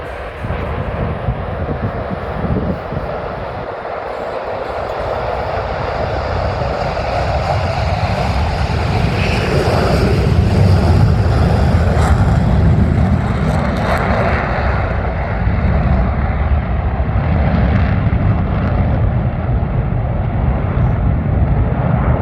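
Blue Angels jet aircraft taking off, a loud, continuous roar that builds and swells over a long stretch, with broad rushing noise and faint shifting whines, heard alone without talking.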